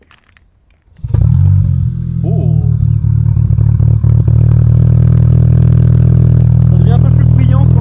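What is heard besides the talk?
Audi A3 S line car engine starting and idling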